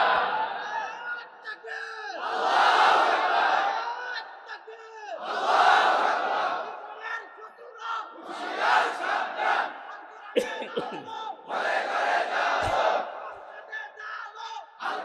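A large crowd at an Islamic sermon chants takbir in unison, several loud swelling group shouts in a repeated call-and-response rhythm, close and reverberant, with a speaker's voice leading between the bursts.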